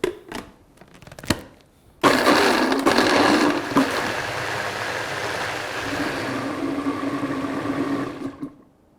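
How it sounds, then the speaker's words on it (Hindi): An electric blender grinds mango with ice for raita, starting after a few short knocks and clatters, then running as a loud steady whirring churn for several seconds before winding down. "ये गया मैंगो, थोड़ी सी आइस और अब इसे हम ग्राइंड करेंगे।"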